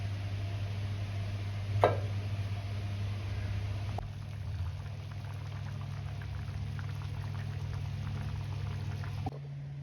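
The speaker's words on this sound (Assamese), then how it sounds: "এতিয়া পানী দি আকৌ ল' ফ্লেমত অলপ সময়ৰ কাৰণে উতলিবলৈ দিম" Tomato chicken gravy bubbles in a covered pot over low flame, a continuous close simmering burble with a low steady hum beneath and a single clink partway through.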